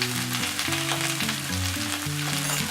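Chinese cabbage stir-frying in a wok with salt and oyster sauce, a dense continuous sizzle close up, with a steady tonal hum running beneath it, and no voices.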